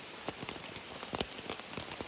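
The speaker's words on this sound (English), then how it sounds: "The rain doesn't seem to be letting up." Heavy rain falls on the Appalachian Trail in Vermont, a dense close patter with sharper individual drops hitting a surface in irregular taps, soft and steady, no voices.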